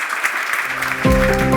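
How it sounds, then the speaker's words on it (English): Audience applause for a panel of speakers at a startup award event, a steady crowd clapping with a voice speaking briefly over it. "please join me in the round of applause to our panelists and thank them"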